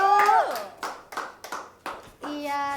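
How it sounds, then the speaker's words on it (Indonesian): Small group clapping for a student group presentation in a classroom, a handful of distinct claps in an uneven rhythm, with a voice and tonal speech sounds heard over them at the start and end. "Boleh kasih tepuk tangan untuk kelompok 1?"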